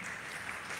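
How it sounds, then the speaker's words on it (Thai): An audience claps in a room, a brief stretch of steady, dense applause with a distant, even wash of many hands. "ขอเสียงปรบมือให้ทุกท่านที่อยู่ในห้องนี้ด้วยได้ไหมคะ"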